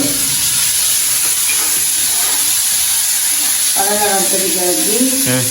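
Onions sizzle and hiss steadily in a hot pan during home lunch cooking, a continuous close frying crackle that runs throughout, with a voice briefly audible over it near the end.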